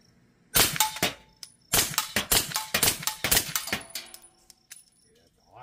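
A suppressed B&T SPC9 9mm short-barreled rifle fires rapid strings of muffled shots into dirt, crisp clicks and clacks with metallic rattles, close by and loud.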